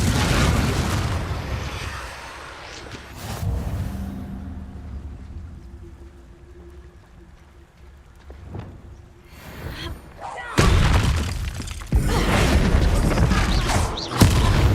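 Confringo fire-spell blasts in Hogwarts Legacy: a loud burst opens, then a quieter stretch with a low rumble, and another cluster of heavy booms near the end. Someone speaks over parts of it.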